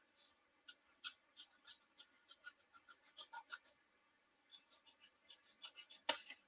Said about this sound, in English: I can only use my scissors.